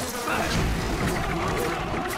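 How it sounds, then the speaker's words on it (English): A dense buzzing bee swarm in the video game BioShock, loud and continuous throughout, with a few thuds mixed into the drone. "Bees, bees, bees!"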